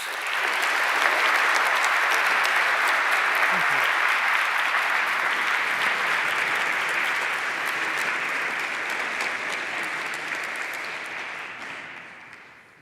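An audience at Gustavus Adolphus College's Nobel Conference gives sustained applause to welcome Professor Ulbe Bosma. The dense, even clapping rises at once, holds steady, then thins and fades away near the end.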